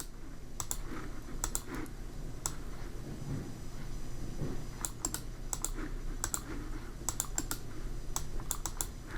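Login details typed on a computer keyboard, with irregular bursts of close, crisp key clicks separated by brief pauses over a faint room hum.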